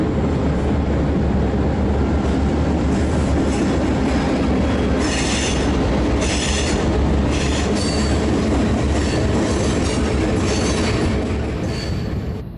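Two Jeep diesel locomotives and a road slug haul a local freight across the former Jersey Central Bridge over the Delaware River, a steady loud rumble of rolling cars with wheel squeal and faint clickety-clack throughout.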